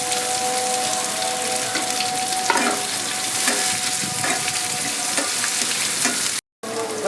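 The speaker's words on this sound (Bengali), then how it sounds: "এই তেলে ফোড়ন দিয়ে দিচ্ছি রসুন দিয়ে দিচ্ছি কিছুটা পেঁয়াজ আর টমেটো দিচ্ছি" Garlic, onion and tomato sizzle steadily in hot oil for a mushroom chilli, with a few scraping stirs of a spatula through the loud, close frying before a sudden brief cut of silence.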